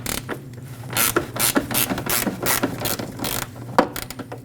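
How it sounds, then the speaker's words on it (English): A ratchet backs out 10mm-headed screws holding the fan shroud to the radiator on a Nissan Frontier 2.5L four-cylinder, giving a steady run of rapid clicking strokes, close and fairly loud with no talk. "Right next to that, you have some 10mm headed screws that we have to remove."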